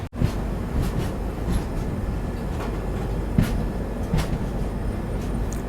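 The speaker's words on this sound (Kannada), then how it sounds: "ಬದಾಮಿ ರೈಲ್ವೆ ಸ್ಟೇಷನಿಗೆ ಎಂಟ್ರ್ ಆದೀವ್ರಿ ನಾವು." Hubballi-bound Superfast Express from Hazrat Nizamuddin pulling into Badami railway station, a steady loud rumble of rolling railcars with a few sharper clanks and knocks from the wheels and couplings, no voices.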